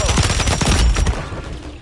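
Dense rapid gunfire from a shooter video game, a loud burst of overlapping automatic shots and bursts that gradually thin out and fade over a couple of seconds, with no talking.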